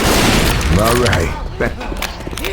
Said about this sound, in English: Yo, coach, stop shooting me.